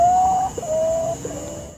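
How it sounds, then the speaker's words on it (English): A potoo calls at night with three drawn-out, mournful whistled notes, each slightly lower and fainter than the last, over a faint background hum. "there are 7 species of these Potu birds, and every species has its own creepy sound"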